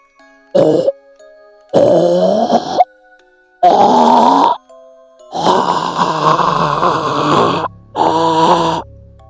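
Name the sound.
choking gasping sound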